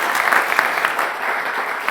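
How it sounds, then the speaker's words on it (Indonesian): Studio audience at an Indonesian televised talk show breaks into steady, full applause, dense clapping sustained evenly for the whole stretch with no voices over it. "tepuk tangan dong."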